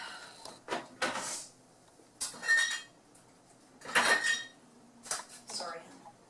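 A zucchini mixture is stirred in a bowl with a utensil, making bursts of clinking and scraping scattered across several seconds, close and fairly quiet, with no talking.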